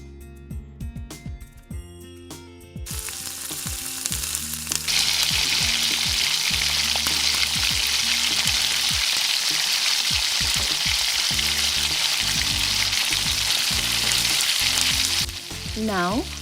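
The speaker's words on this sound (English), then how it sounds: "while our chicken starts to cook up nicely" Chicken fries in a hot pan with a loud, steady sizzle that swells after a few seconds and carries on evenly, with some clattering as it starts and no talk over it.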